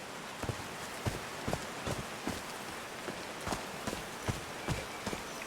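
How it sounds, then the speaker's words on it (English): Steady hissing rain in the video game Call of the Sea falls continuously, with regular soft footsteps crunching along through it. "These drops of rain are so refreshing."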